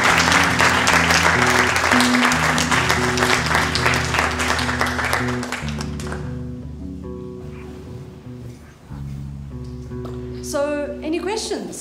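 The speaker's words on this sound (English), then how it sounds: "And another round of applause." An audience claps for the artist Mary Sibande at an academy talk event, a dense, loud burst of applause that fades after about five seconds, with tonal music and voices carrying on underneath.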